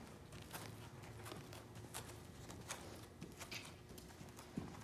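Hooves of a Gypsy horse walking during groundwork training, a soft, steady clip-clop of footfalls close by with light background noise and no talking.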